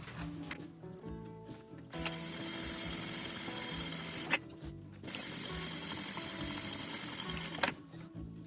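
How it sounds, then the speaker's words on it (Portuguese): A sewing machine runs two stitching passes on a zippered cosmetic bag, sewing a pair of seams beside a drawn line. A short burst comes first, then two long steady runs with a brief pause between them, close and clear. "agora eu vou passar duas costuras do lado desse risco"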